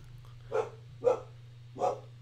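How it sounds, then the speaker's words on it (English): A dog barks three times in an even, spaced rhythm, moderately close, over a steady low electrical hum with no talking. "Dog's barking now."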